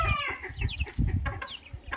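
Turkish Sultan chickens cluck and squawk close by in a busy, overlapping flurry of calls, with a few brighter higher-pitched cries mixed in.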